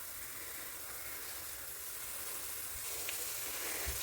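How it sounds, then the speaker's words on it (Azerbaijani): Chopped onion frying in a pot for borscht, a soft, steady sizzle and crackle that holds evenly and swells slightly toward the end, close by with no talking. "Soğanı doğrayaraq burada qovururam."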